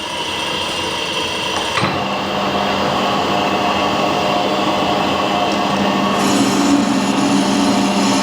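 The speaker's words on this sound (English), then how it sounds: "So you might hear a bit of scraping. That's just because it literally is only scraping it." Lathe cutting tool scraping a thread on an alloy steel screw, a continuous grinding drone with a faint high whine, a sharp click near the start and the pitch shifting slightly partway through.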